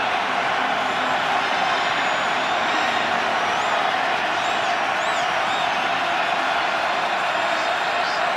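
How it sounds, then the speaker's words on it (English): A huge NFL stadium crowd at a Ravens versus Chiefs game roars loudly and without a break, a dense wall of cheering that holds steady throughout, with a few whistles heard on top. "Look at Kelsey getting this crowd sparked even more."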